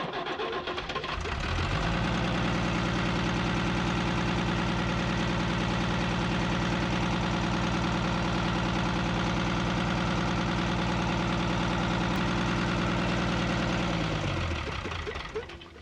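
A 1975 Chevy pickup's Isuzu diesel engine cranks and catches on a hot start, then idles loudly and steadily with a rough, knocking diesel clatter for most of the stretch before winding down near the end.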